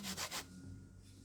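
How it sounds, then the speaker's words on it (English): Food being grated by hand on a grater in a Kingston, Jamaica kitchen, with three quick rasping strokes close up and then quiet. "When I grate it, me get everything from it that way."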